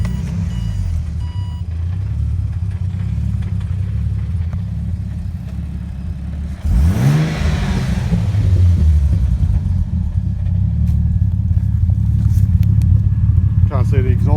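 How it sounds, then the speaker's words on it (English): A Ford BF Falcon wagon with an F6 engine swap and a 4-inch exhaust idles at first, then fires up with a sharp start about midway and settles into a loud, rumbling idle with a few revs, while someone talks nearby. "So I'll just give her a quick start up for you."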